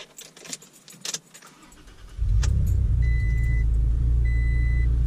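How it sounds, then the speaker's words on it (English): A Toyota Tacoma pickup with a six-speed manual starts up after a few faint clicks and key jangles, its engine catching about two seconds in and settling into a loud, steady idle rumble close by, with a chime sounding over it. "I'm gonna fire up the truck to make sure that everything lights up on there."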